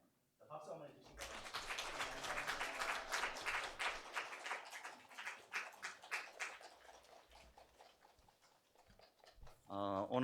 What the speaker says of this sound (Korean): 박수 한번 해주시기